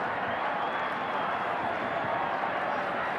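A rugby league stadium crowd on its feet applauding a playoff score, a dense, steady wash of clapping and cheering with no breaks, heard from a distance.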